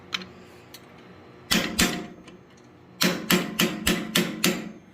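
Hot steel struck with a blacksmith's hammer to open up chisel cuts on a block being forged into an elephant: two loud ringing blows, a pause, then six evenly spaced strikes in quick rhythm, with no talking.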